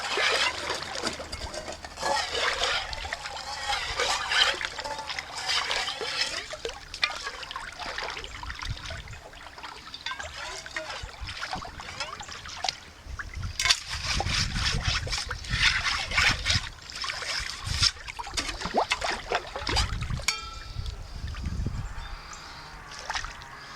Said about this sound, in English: I'm just going to clean that out with gravel and sand and water at this point.